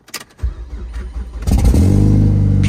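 A car engine cranks over with a few short bursts, catches, and settles into a loud, steady idle with a slight rev, heard close with no talking.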